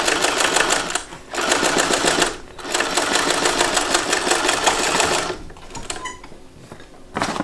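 Sewing machine stitching a bag lining in fast, loud mechanical bursts, starting and stopping with short pauses between runs.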